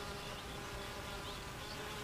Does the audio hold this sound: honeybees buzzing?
yes